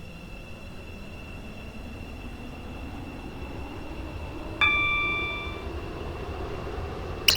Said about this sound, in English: This train is formed of 6 Angel coaches.